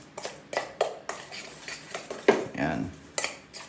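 Garlic fried rice being mixed in a pan, with a metal spatula scraping and clanking against the pan in a steady series of sharp knocks and rasping stirs, close up and loud.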